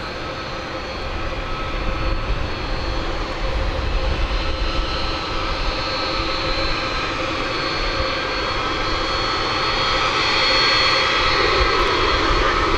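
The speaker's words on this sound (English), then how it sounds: "Let's see what we can do with a takeoff here." Broadband roar of an airliner jet engine at takeoff power at DFW Airport, a steady, loud sustained rumble that swells slightly toward the end, heard alone without voices.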